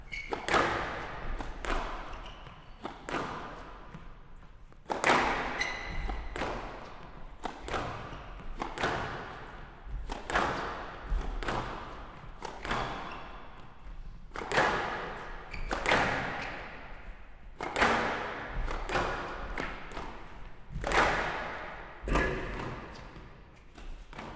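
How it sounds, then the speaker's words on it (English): Squash ball struck back and forth in a professional US Open match from 2004, a run of sharp thuds and wall impacts in an irregular rally rhythm, echoing in the court under crowd ambience. "Opted to go for the cross-court forehand drive and caught Peter out"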